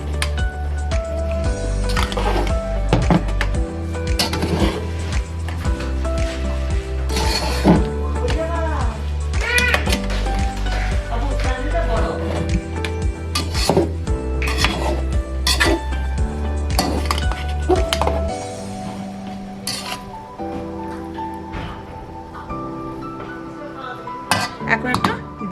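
Chicken kofta biryani ingredients being mixed by hand in a metal bowl or pot, with repeated clinks and soft squishing over a steady background hum; a person speaks intermittently.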